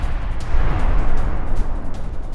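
A Russian missile strike on a populated residential area of Kyiv produces a heavy, continuous rumbling blast roar that sustains loudly for a couple of seconds, thick with low booming energy.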